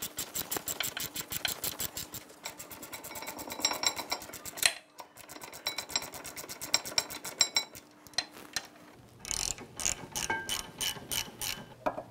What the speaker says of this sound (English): with a 17mm socket, we'll tighten these down. Just going to snug them up